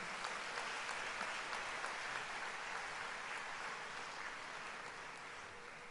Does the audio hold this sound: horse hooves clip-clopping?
no